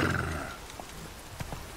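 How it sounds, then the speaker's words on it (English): A short, breathy, horse-like grunt from the character Geralt in the video game The Witcher 3 opens the clip, followed by faint footsteps and soft thuds over a muted background. "I thought that was a horse making that noise, but it's Geralt that makes that noise"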